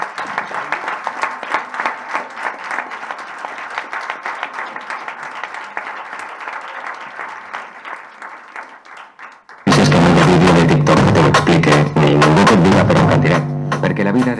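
An audience applauds at a youth-work professionals' gathering, with steady moderate clapping that carries on for about ten seconds. It then cuts abruptly to loud music with talk.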